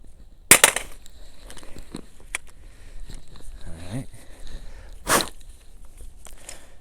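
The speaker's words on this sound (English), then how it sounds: "let's drop it on the cement" A Scorpion pistol fitted with a 35-round Magpul magazine drops onto cement, with two sharp, loud clattering impacts a few seconds apart and quieter handling noise between them.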